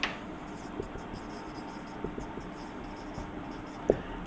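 Faint chalk or marker strokes scratch across a classroom board during a maths lesson, soft intermittent taps and scrapes with one sharper knock near the end, under quiet room hiss.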